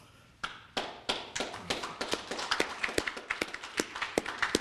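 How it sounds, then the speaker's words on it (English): A single person claps at a county State of the County address, sharp hand claps starting sparse and quickening into a steady, fairly close rhythm with no talk over them. "I'm clapping for the department heads and the manager staff"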